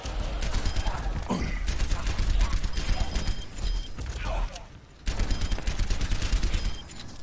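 Rapid automatic gunfire from Soldier: 76 in the Overwatch Junkenstein's Revenge event, sustained bursts with mechanical clatter and a brief pause, mixed with game effects and a voice speaking over it.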